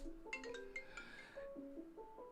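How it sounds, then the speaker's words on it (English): A computer rings with an incoming call in a small office, giving a bright, melodic electronic ringtone of quick repeated chiming tones that runs continuously at moderate, close volume, with no talking. "my computer's ringing over here on the side"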